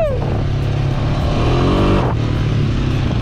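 Quad bike engine revving hard and continuously while drifting on sand, loud and close throughout with a rising and falling pitch.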